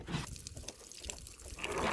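Liquid poured from a jug onto a simulated bone test barrier at a shooting range, a steady close splashing trickle running about two seconds and swelling louder toward the end.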